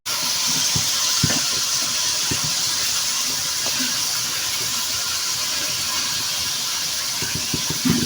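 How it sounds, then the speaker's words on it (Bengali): Chopped onion and chili slices frying in heated oil for a hilsa and bottle gourd curry, a dense, unbroken hiss with occasional soft pops and taps, close and fairly loud. "এই তেলের মধ্যে আমি পেঁয়াজ কুচি এবং মরিচের ফালি দিয়ে দিলাম।"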